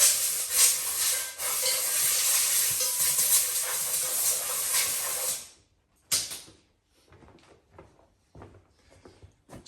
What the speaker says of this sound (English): I was going to give the lid a very quick air blowout